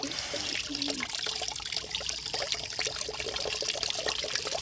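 Cold tap water runs and trickles into a sink during tooth brushing on a chilly morning, a close, continuous splashing stream with small irregular drips and gurgles throughout.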